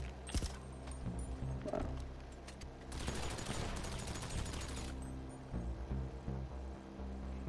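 Suppressed gunfire in GTA Online comes as a quiet volley of rapid shots in the middle, with softer mechanical clicks and clatter before and after it.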